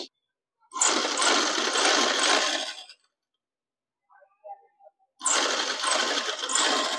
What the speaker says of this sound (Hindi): अब उल्टे साइड पे रख के और मैं जो है ना अभी से सिलाई कर दूंगी।